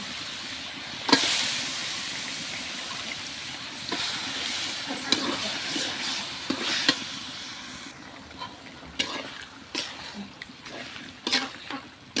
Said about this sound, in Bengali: মশলা আমার কষা এখন আমি মাংস দিয়ে দেবো